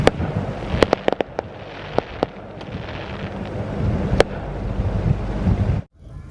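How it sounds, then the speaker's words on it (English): Neighbors' fireworks go off across a lake on the Fourth of July, heard from a pontoon boat: distant sharp pops and crackles in irregular bursts over wind and water, ending in a brief dropout. "our neighbors are lighting off fireworks"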